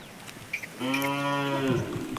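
A farm cow gives a single loud, drawn-out moo close by, lasting about a second, over quiet outdoor background.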